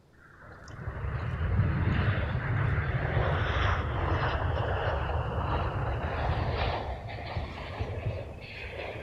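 An Airbus A380 airliner passes overhead at Amsterdam Schiphol, a loud, steady broadband engine roar that swells and holds before easing slightly toward the end, with no talk.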